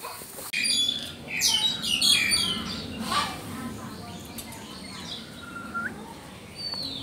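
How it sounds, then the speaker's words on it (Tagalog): African grey parrot at an animal sanctuary giving loud squawks and whistled chirps up close, with people talking nearby and another bird calling faintly later. "African Grey Parrot. Ano sabi niya?"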